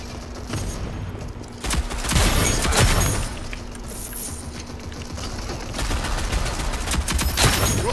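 Dense bursts of gunfire from the shooter video game Rogue Company rattle steadily through the whole stretch, loud and close, with heavier volleys swelling in the middle and near the end.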